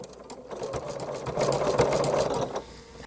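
A sewing machine zigzag-stitches layered fabric strips together for a child's rug, running in a continuous rapid mechanical whir with fast needle chatter, close and steady with a brief slowdown near the end.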